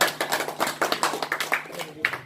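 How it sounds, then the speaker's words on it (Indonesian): An audience claps at a government agricultural briefing for P4S farmer training centres in NTB, Indonesia: a brisk run of close, fairly even hand claps lasting a couple of seconds, with a voice murmuring faintly underneath. "Tepuk tangan."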